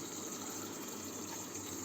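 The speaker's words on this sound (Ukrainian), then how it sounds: "насос, який дає на розпилювачі подачу води." A water pump feeding the sprayers of a pipe hydroponics setup in a basement garage gives a steady, faint rushing hum with a low drone underneath, with no talking.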